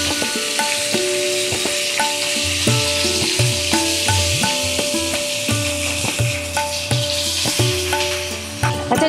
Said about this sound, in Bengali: এই আমার তেল গরম হয়ে গেছে, এবার আমি মাছটা ভেজে নেব।